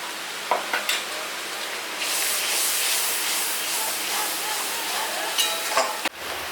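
Onion, tomato, green chilli and ginger paste frying in a pan gives a broad, steady hiss close by, broken by a few spatula scrapes and knocks as it is stirred, with no talking.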